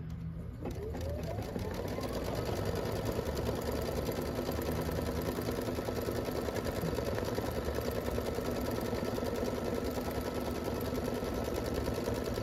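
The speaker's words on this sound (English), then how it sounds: "we're going to go ahead and start this. I've got purple thread in here." Scan n Cut machine embroidering a word in purple thread, a steady rapid mechanical stitching chatter with a low motor hum running continuously and close, a brief word spoken near the start.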